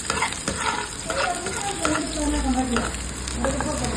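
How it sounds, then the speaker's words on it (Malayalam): Garlic, shallots and chilies hiss as they sauté in a pan, with a steady close sizzle and soft stirring scrapes. A faint voice and a low rumble sit underneath. "കുറച്ച് വെളുത്തുള്ളി ചുവന്നുള്ളി അഞ്ചാറ് ചീനമുളക് ഇതെല്ലാം കൂടെ അതിലിട്ട് നന്നായി വാട്ടിയെടുക്കും"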